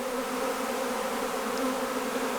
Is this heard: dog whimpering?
no